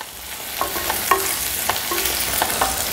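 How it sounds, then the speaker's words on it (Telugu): Chopped onion pieces hit hot oil with mustard seeds and urad dal for a cauliflower masala curry, giving a steady close sizzle with scattered crackles and pops, and a spoon scraping the pan now and then. "అవి వేగిన తర్వాత ఈ ఉల్లిపాయ ముక్కలు వేసేసుకోండి"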